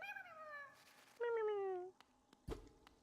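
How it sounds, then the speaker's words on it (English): A small creature in the video game Hollow Knight gives high, cat-like meows, two drawn-out calls in quick succession followed by a sharp click, fairly clear with quiet background. "It's like a little cat."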